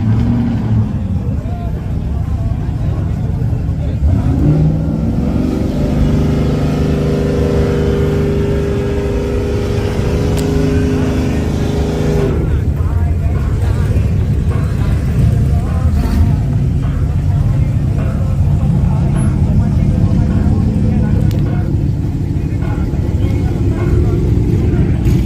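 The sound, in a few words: Chevrolet Camaro ZL1 engine during drag race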